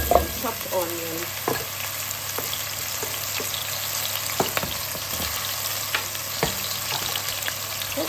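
Chopped onions fry in hot oil with tomatoes and peppers for a rice and beans jollof, giving a steady close sizzle with occasional scrapes and clinks of a stirring spoon.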